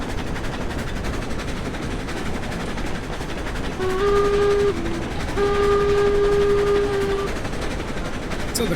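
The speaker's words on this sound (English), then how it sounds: "So we're doing a full clip, 18 miles an hour, full speed of this locomotive." A steam locomotive in the video game Railroads Online runs at its full speed of 18 miles an hour, with a steady rumbling chug and a whistle that blows twice near the middle, loud and close.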